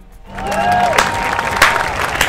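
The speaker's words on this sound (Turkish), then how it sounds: "Ver abi alkışı" Applause and a bit of cheering break out during a supermarket price comparison, rising after a brief quiet start as a tonal sound fades, with sharp louder claps toward the middle and end.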